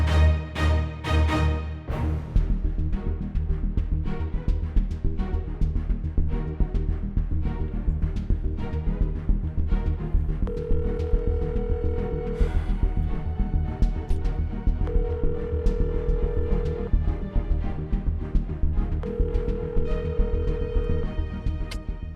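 A telephone ringback tone repeats on an unanswered call, three evenly spaced steady beeps heard under a busy background of music or ambience.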